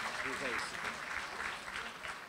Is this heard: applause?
yes